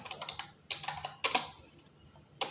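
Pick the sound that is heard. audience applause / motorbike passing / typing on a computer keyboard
typing on a computer keyboard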